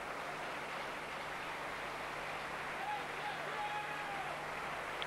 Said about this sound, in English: And he gets a thoroughly deserved round of applause.